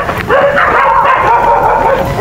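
Dogs barking on a roadside, a steady run of close, loud yapping and whimpering barks filling the whole stretch.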